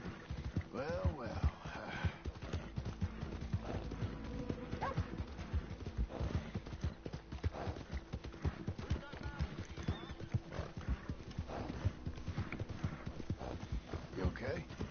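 A horse in Red Dead Redemption II clip-clops steadily with rhythmic hoofbeats and snorts, whinnying early on, while a voice talks over the continuous sound of riding.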